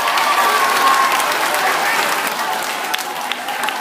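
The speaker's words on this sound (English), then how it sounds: "Give them a round of applause" Audience applause at a community food drive event, dense clapping that is loud at first and then gradually thins out, with no talk over it.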